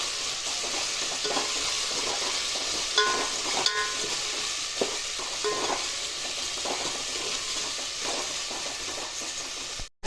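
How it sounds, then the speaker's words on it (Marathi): Potatoes, carrots and peas stirred in a sizzling pan for masale bhaat, with steady frying hiss and intermittent scraping strokes of a spoon, close and continuous, no talk. "बटाटा आणि गाजर चांगला हलवून घ्यायचं"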